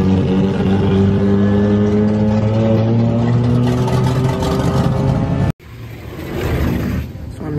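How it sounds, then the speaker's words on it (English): Loud car engines rev and drone continuously at an underground car meet in Aruba, their pitch rising and holding, then a brief cut before more distant revving resumes. "I'll show you if they keep revving how loud it is."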